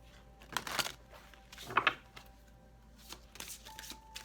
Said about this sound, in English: Alright guys, this will be our last shuffle.